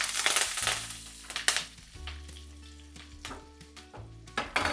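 Curry leaves crackle and sizzle in hot tempering oil with mustard seeds, cumin, garlic and dried red chillies, for a pepper rasam; bursts of loud frying spatter rise and fall over a steady background hum, with no talking.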